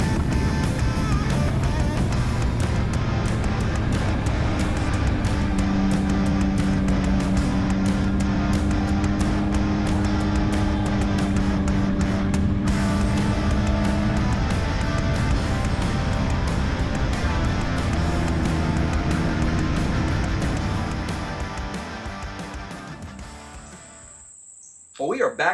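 A 2022 Yamaha XSR900 motorcycle rides hard around the Road Atlanta race track, its loud, continuous engine note rising and falling through gear shifts with wind roar, before fading out near the end.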